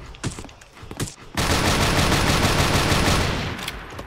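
AA-12 shotgun blasting in the video game Special Force, a few separate close shots followed by a sustained rapid automatic burst of dense, loud fire lasting over two seconds before tapering off.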